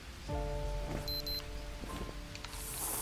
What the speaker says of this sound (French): Ah, en plus il pleut.